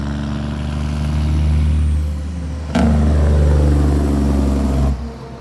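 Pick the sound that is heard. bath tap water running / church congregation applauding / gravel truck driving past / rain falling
gravel truck driving past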